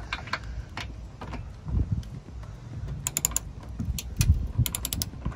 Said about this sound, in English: you wanna hear that click once you get it really tight